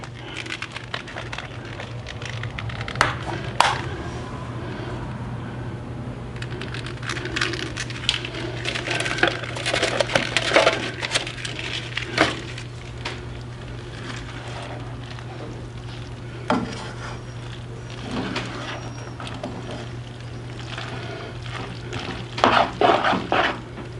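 Macaroni and cheese with whipping cream is stirred in a pan, giving scraping, clinking and wet squelching strokes in uneven bursts over a steady low hum.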